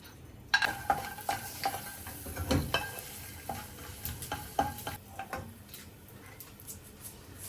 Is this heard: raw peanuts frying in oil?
yes